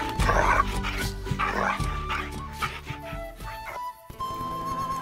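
A nursing mother dog on a hiking trip in Bolivia gives several short, close barks and yips, with a higher whimper between them and a steady hum in the background.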